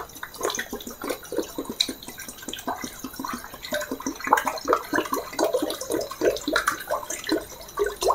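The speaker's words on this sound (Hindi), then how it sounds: "लगभग इसमें हम 1 लीटर पानी डालेंगे।" Water pours into a karahi or pan for sugar syrup for Diwali sweets, a steady splashing gush with irregular bursts lasting several seconds, close and fairly loud, without speech.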